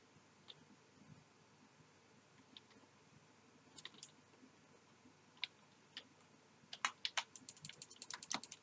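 Keyboard and mouse clicks from playing Roblox on a computer, faint scattered taps that quicken into a rapid burst of clicking near the end, close and alone in a quiet room.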